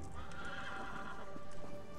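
A horse in the video game Elder Scrolls Online trots with quick clip-clopping hooves and lets out a whinnying neigh, close and clear over soft game ambience.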